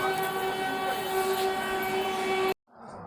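Heard from inside the coach, the Shaktipunj Express runs with a steady loud rumble and a sustained horn-like tone, then cuts off sharply to faint background noise.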